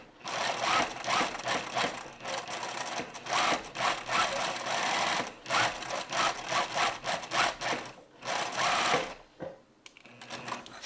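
A sewing machine stitches fabric around the edges of a reversible poncho in quick, loud bursts of rapid needle chatter, with short pauses between runs and a final stop near the end.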